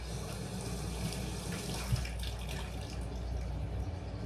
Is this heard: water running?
yes